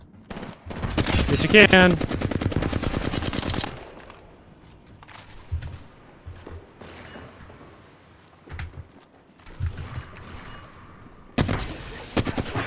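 Rapid automatic gunfire bursts loudly through a window in Apex Legends, followed by scattered single shots and sharp impacts, with a voice briefly answering over the action.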